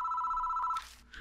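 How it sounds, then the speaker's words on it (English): A telephone rings in the horror game Spirit Hunter: NG, one close, steady electronic ring that cuts off partway, followed by faint rustling. "The ringing doesn't stop."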